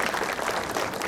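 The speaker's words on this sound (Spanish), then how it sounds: "Fuertes aplausos para el señor alcalde" Brief, loud burst of dense applause from a crowd at a patron saint festival in Pucyura, honouring the mayor, with no voices over it.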